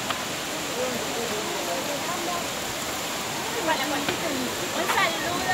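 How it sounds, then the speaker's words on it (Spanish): Cascada de la Virgen waterfall in Baños de Agua Santa, Ecuador, pours as a loud, constant broadband roar that fills the whole stretch, with voices talking over it. "La cascada de la Virgen."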